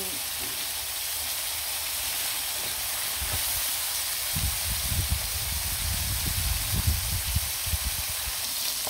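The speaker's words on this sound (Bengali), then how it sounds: "মাছগুলো কিন্তু তাজা তাজা হয়ে গেছে, লাল লাল করে ভেজে নিলাম" River eel fish frying in hot oil, a steady loud sizzle and hiss throughout, with bubbling and spattering growing busier toward the end.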